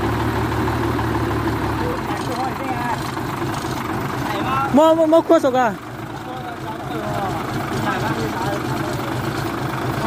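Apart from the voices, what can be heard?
truck engine idling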